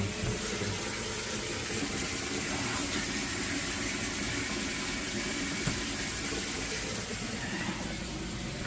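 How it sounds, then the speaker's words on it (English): A pump on an enclosed hot tub spa circulates water out of the tub and through a hose back to the hot water heater, giving a steady, continuous rushing hum at a constant level throughout. "See the pump? It takes water right out of the tub."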